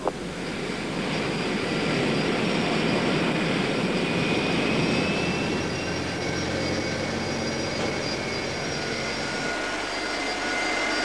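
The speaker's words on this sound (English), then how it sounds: "which will push the jumbo away from the stand." A British Airways jumbo jet being pushed back from its stand at Heathrow in 1986 gives a loud, steady roar of jet engines and ground equipment that holds evenly for the whole stretch, with no talk.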